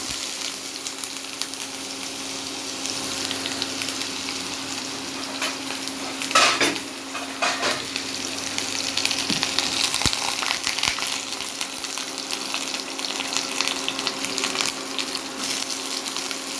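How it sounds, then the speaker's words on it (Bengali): Chopped onions frying in soybean oil in a pan for a taki fish bhuna: a steady, even sizzle throughout, with a few brief stirring scrapes and clinks and no voices. "রান্না করার জন্যে আমি একটু সয়াবিন তেল দিয়ে দিলাম এবার পেঁয়াজ কুচি দিয়ে দিলাম"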